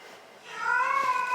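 A stray cat gives a single drawn-out, wavering cry heard indoors, rising after a quiet start and holding a clear tonal wail to the end.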